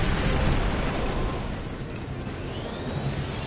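A Flare spell blast in Final Fantasy X-2, a loud, dense roaring explosion that rumbles on and slowly thins out, with faint whooshing sweeps near the end.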